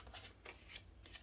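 Tarot cards being shuffled by hand, a repeated papery riffle and slap in bursts about every quarter second, close and moderately quiet, with no voices.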